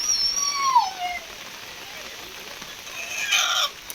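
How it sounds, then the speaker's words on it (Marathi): A rooster crows outdoors in heavy rain, its call rising and falling near the start, then more bird calls near the end over a steady hiss of rainfall. "कोंबाचा आवाज आणि पावसाचा आवाज येत आहे"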